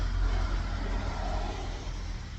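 A car on the road goes by close and loud, its engine a steady broad rumble with no voices.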